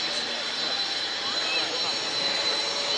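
Distant drone of a triple-tailed turboprop aircraft passing overhead at the 1994 Woodford airshow, a steady broadband roar with a faint high whine, heard alone.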